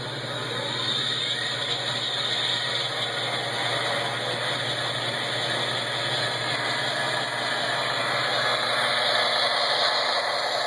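A toy train's engine-start sound effect plays through small speakers, a steady droning idle-like rumble with a hissy edge that holds at an even level throughout, with no talking over it.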